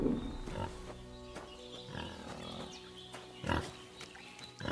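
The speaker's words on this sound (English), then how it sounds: "That pig is not interested in me." A pig in Kingdom Come: Deliverance II grunts close by in several short, rough snorts spaced irregularly across a few seconds, over faint background ambience.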